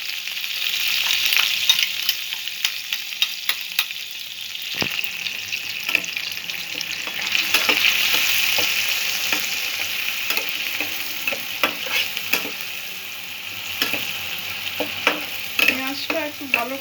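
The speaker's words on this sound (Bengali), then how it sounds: "পেঁয়াজটা একটু ভালো করে কষে নেব।" Onions fry over medium-low heat for a Bengali hilsa fish dish, a continuous hiss of sizzling oil punctuated by frequent scraping and clinking strokes of a spoon, growing busier toward the end.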